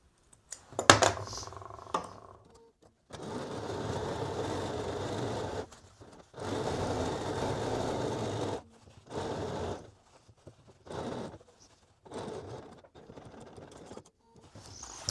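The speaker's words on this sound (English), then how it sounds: "now we're going to do another line of top stitching, 1/4 of an inch in from that" Sewing machine top stitching a skirt seam, running in several steady whirring bursts of a few seconds each, separated by pauses and short stops, close and clear.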